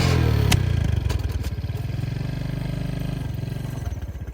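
A motorcycle engine catches and settles into a steady close idle, with a brief clattering start and a rapid low pulsing throughout, loud and alone without talk.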